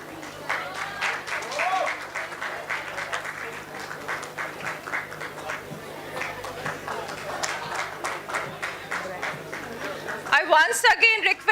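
Audience clapping at a 2022 MBA convocation ceremony of the Army Institute of Management & Technology, a steady patter of many hands in a large hall, moderate and sustained, with a voice speaking over it near the end.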